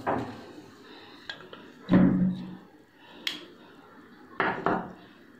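Homemade amla (gooseberry) oil strained from a pot, sparse metallic clinks and knocks of pot and strainer separated by quiet gaps, close and fairly soft.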